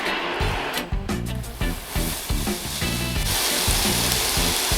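Onion frying in a pan for egg fried rice, a steady loud sizzle broken by stirring clatter and scraping, then a smoother continuous hiss toward the end, with no voices.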